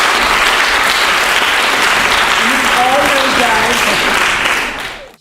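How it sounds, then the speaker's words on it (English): Sustained audience applause at a business and leadership summit, dense clapping held steady and loud with a few voices faint underneath, then fading out at the end. "give them a round of applause"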